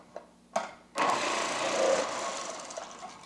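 A food processor grates quartered potatoes, a couple of sharp knocks followed by a steady whirring, grinding motor drone.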